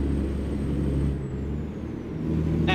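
Kenworth W900 truck with a Cummins ISX engine in American Truck Simulator, a low steady diesel drone with a hissing air release partway through, then a brief sharp burst at the end, close and continuous.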